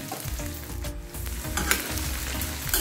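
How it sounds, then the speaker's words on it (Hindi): Okra for bhindi karahi fries in hot oil with a close, continuous sizzle and crackle, punctuated by a spoon stirring through the pan. "चलो इसको फ्राई कर लेते हैं।"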